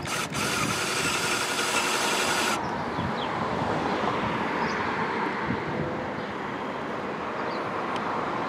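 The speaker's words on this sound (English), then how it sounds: "Turn on the drill." A power drill runs with a steady, broadband whirr for about two seconds, then cuts off, leaving a low rumbling background with a few faint knocks.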